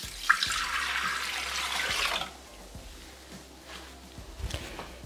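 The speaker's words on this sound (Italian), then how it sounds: "adesso mettere nel boccale l'acqua filtrata." Filtered water poured into a Thermomix jug while making lemon gelo, a steady splashing pour for about two seconds, then quieter faint knocks and handling sounds.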